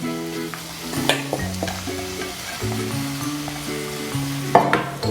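Onion and carrot sautéing in a pan for fast-food-style veg noodles, a steady sizzle under prominent background music with a few sharp spatula clinks.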